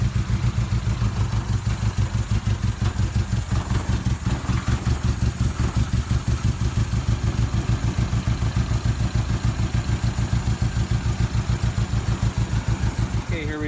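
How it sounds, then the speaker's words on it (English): A Toyota Tercel engine runs with major exhaust leaks, giving a steady, rapid chuffing pulse, close and fairly loud, like a rough idle that continues without pause. "Got some pretty major exhaust leaks right up front here"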